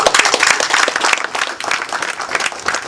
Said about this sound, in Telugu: give a big clap